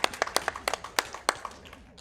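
A few people clap briefly during a livestream of a Zelda Ocarina of Time speedrun, quiet scattered slaps that thin out and fade within two seconds, with no voices.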